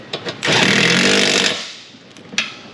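A power tool such as an impact driver briefly runs a fastener into a 1995 Jeep Wrangler 4.0 4x4, a loud buzzing burst of about a second with small clicks and knocks around it.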